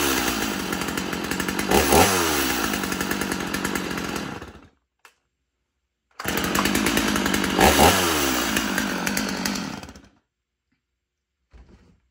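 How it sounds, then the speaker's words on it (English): Two long bursts from a Stihl chainsaw, an MS250 or MS291 firewood saw with a worn, loose chain. Each burst revs loud and close for about four seconds, then cuts to silence. "but the MS291 and the MS250 are very good firewood saws."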